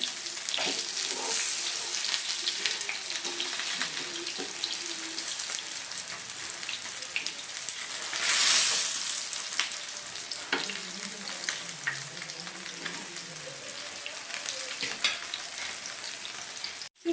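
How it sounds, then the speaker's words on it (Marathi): Rani fish frying crisp in a pan over medium flame, a continuous close crackling sizzle with a brief louder hiss midway and faint background tones. "मिडियम फ्लेमवरती एक पाच ते सात मिनटं छान अशी मच्छी कुरकुरी होईपर्यंत आपण इथे फ्राय करून घेणार आहोत"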